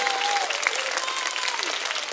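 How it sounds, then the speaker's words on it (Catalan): A short burst of theatre audience applause at a children's cantata performance, many hands clapping steadily at moderate volume throughout. "Un aplaudiment per en Joan"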